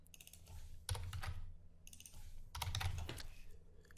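Fingers type on a computer keyboard in two quick bursts of close clicking keystrokes separated by brief pauses, quiet and with no voice.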